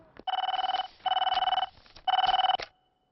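A telephone bell rings in three short trilling bursts with brief pauses between, clear and close, then stops.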